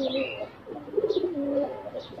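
Pigeons coo in soft, rolling phrases from close by, with several overlapping calls over about two seconds in a quiet setting.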